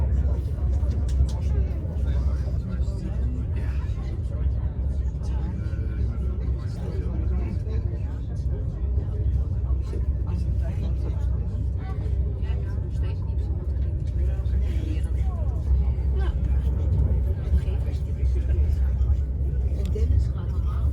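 Steady low rumble inside an NS intercity train running between Utrecht and Arnhem through the countryside, a continuous deep drone of motion and rolling wheels with faint rattles, constant in loudness for the whole stretch.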